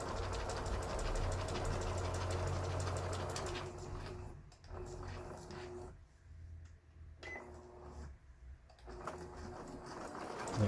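A Juki HZL e50 digital sewing machine hums and stitches an overlock stitch steadily, then runs in short stop-start bursts with quiet pauses between.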